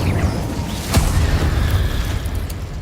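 Fiery spell blast from Hogwarts Legacy: one sharp burst near the start of the second, then a rumbling roar that holds steady under a dense game soundscape.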